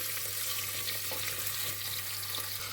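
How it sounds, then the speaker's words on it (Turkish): Potatoes, carrots and onions sautéing lightly in oil in a pressure cooker pot give a steady, soft, close sizzle over a low constant hum, with no talk. "Hafiften şöyle kavuruyorum."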